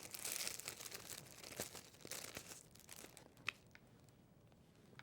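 Thin plastic craft bag crinkling as it slides over a yarn-decorated lollipop, a soft steady rustle with scattered crisp crackles, fairly quiet and close, fading toward the end.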